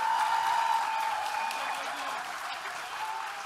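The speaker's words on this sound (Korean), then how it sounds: "박수 부탁드립니다." Applause from a large crowd at a Democratic Party innovation council political event in Korea, a steady dense wash of clapping that fades slightly, with faint voices underneath.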